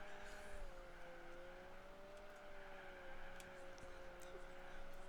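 A turbocharged race car engine in Gran Turismo 4 hums steadily at a high, whining pitch, faint overall, with soft tire and mechanical noises.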